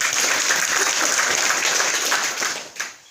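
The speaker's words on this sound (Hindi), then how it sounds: "इनके लिए भी एक बार जोरदार ताली।" Enthusiastic audience applause, dense and steady, fading out over the last second.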